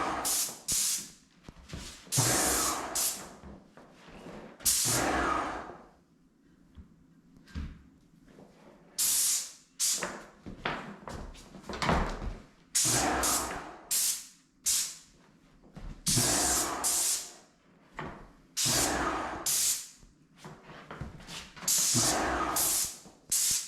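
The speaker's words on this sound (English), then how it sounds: "we've been real happy with the way the sprayer sprayed the primer" A paint sprayer coats cabinets with primer in repeated bursts of loud, breathy hiss, each spray pass starting and stopping abruptly with short quiet gaps between, heard up close.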